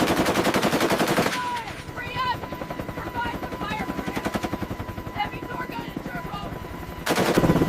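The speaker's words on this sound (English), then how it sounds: "the SEAL team lays down overwhelming fire on the move, ensuring a covered retreat to the extraction point" Rapid automatic gunfire from a SEAL team laying down covering fire during a fighting withdrawal, loud sustained bursts at the start and end, with dense shots and a helicopter-like drone throughout the middle.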